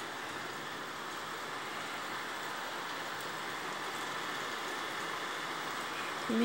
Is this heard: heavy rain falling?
yes